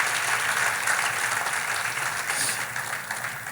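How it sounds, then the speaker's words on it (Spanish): A church congregation at a fasting service applauds with steady, dense clapping that holds at an even level for a few seconds and eases slightly near the end. "Dale fuerte el aplauso al Señor."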